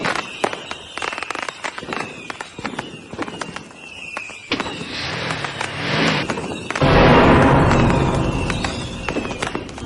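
Fireworks going off at a house on the Fourth of July: scattered sharp pops and crackles build into a loud, dense rumbling burst with hissing that fills the final seconds, close by.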